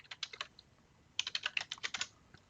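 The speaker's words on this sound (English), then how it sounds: "I'm just gonna type make." Rapid keystrokes on a computer keyboard while entering a compile command in a terminal: a short burst of clicks, a pause, then a longer quick run of taps, close and clear with no talking.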